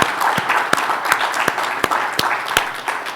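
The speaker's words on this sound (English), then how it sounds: "How about a round of applause for Gene Jones and his staff" Audience applause at a conference session, a continuous spread of clapping from a crowd, with several sharp, loud individual claps standing out close by at a roughly regular pace.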